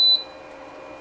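A single sharp electronic beep from the control panel of a Gourmia French door XL digital air fryer oven, followed by a faint steady hum.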